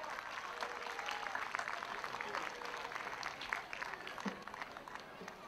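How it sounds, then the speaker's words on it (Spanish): Audience applause at a Latin food festival, a dense, steady wash of clapping that runs the whole time with some crowd noise mixed in. "¡Bravo, bravo! ¡Un aplauso!"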